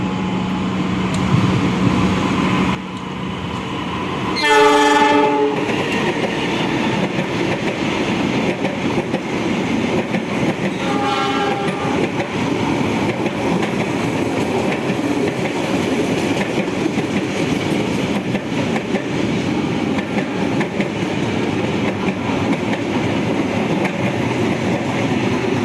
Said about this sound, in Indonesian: kereta api Argo Dwi Pangga yang menyusul kereta api Bengawan